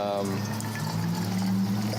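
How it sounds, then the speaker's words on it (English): Hot water pours from a gooseneck kettle onto a paper coffee filter, wetting it before brewing, making a soft, steady trickle close by beneath a low background hum, with a voice briefly heard at the start. "So what I'm doing here is just kind of wetting my filter."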